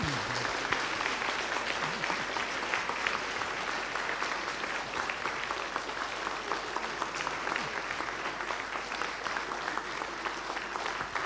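A lecture audience claps steadily and densely for about eleven seconds, a continuous wash of many hands at a constant level with no break.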